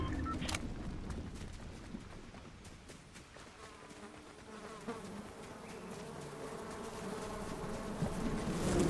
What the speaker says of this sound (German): Oh, Wespen, Alter.